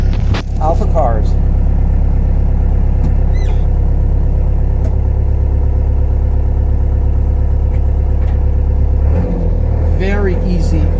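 A 1989 Land Rover Defender 110 Perentie 4x4 engine idles loudly and steadily while reversing, a deep constant drone with brief squeals, close inside the cab, while someone talks over it.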